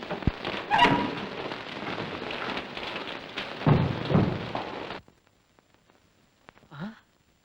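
Wind and rain in a Tamil comedy scene, a dense rushing hiss of rain with gusts for about five seconds that cuts off abruptly, leaving near silence and a brief faint sound at the end.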